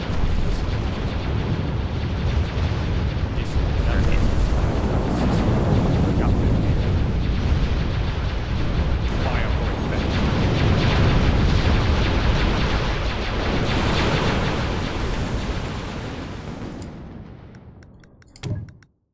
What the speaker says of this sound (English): All guns, fire.